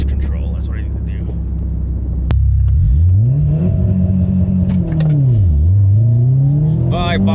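A Subaru STI with a big turbo and swapped exhaust launches hard, then bogs, the engine note dipping and surging as it pulls away loud and close from inside the cabin.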